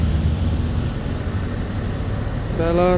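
A truck trailer grinds up a steep hill at Bukit Kodok, its engine a steady loud rumble throughout, with a brief higher tonal sound near the end.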